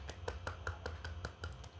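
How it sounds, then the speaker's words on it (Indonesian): A quick, steady run of hand claps from a classroom of students, evenly spaced, over a low background hum. "Beri tepuk tangan untuk Gina."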